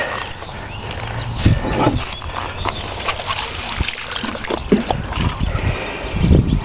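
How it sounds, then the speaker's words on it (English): Water poured onto a mulch dam, a trickling, splashing flow with occasional louder spatters and bumps, fairly close by and with no one speaking. "let's go ahead and put some water on it."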